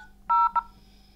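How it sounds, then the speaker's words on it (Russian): Two DTMF keypad tones from a phone dialer app on a Xiaomi POCO X3 running MIUI 12, one longer beep then a shorter one, clear and close over faint background hum. "Вот мы берем и набираем любой номер там"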